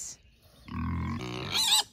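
Homestead pigs grunt up close, one long, deep, rumbling grunt that rises into a higher, squealing snort near the end, after a moment of quiet.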